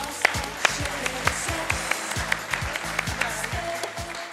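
Audience applause at a science talk for Anneloes, a short round of clapping with regular sharp claps over a steady wash, moderately loud and brief.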